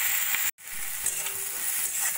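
Tomato, chili, ginger-garlic paste and Kashmiri chili powder fry in a pan for a fish curry, giving a steady close sizzle with faint stirring and a brief dropout near the start.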